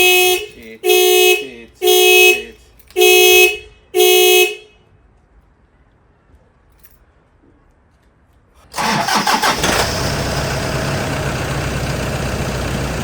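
A junkyard Mitsubishi Lancer with a weak battery, jump-started from a Toyota Prado: five loud, evenly spaced car alarm or horn blasts, a quiet pause, then the engine cranks and catches into a steady, close idle.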